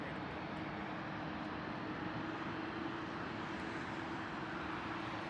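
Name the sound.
Japan Airlines airliner taking off for Haneda, Tokyo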